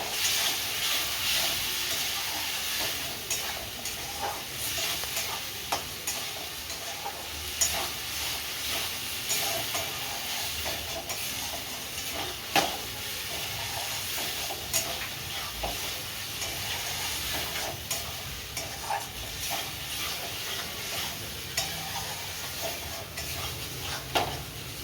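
A chholar dal dhoka mixture of chana dal with sugar is sautéed and stirred in a pan, giving a steady, close sizzle with repeated scraping strokes of the spoon throughout, with no voices.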